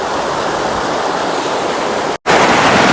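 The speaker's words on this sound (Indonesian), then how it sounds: "Bunyi deru sungainya mantap." A river beside a campsite at Ranca Cangkuang near Bandung rushes over small stones and fine sand, producing a loud, constant close-up roar that is broken only by one brief cut near the end.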